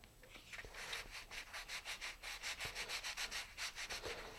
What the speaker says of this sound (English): go ahead and sand the whole thing smooth with the fine grit sandpaper